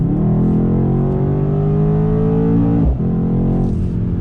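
A 2019 Mercedes-Benz AMG C63 S sports car accelerates hard in automatic mode, its loud engine note rising in pitch and then dropping sharply on a quick gear shift before climbing again, heard from inside the cabin.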